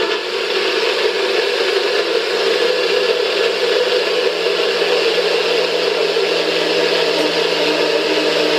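A small blender whirs steadily while blending a smoothie, a constant loud motor whine with no breaks and no voices.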